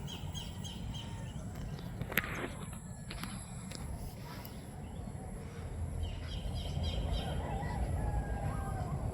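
A rooster crows on a goat farm, a faint, distant call over steady outdoor background noise, with other fowl and footsteps nearby.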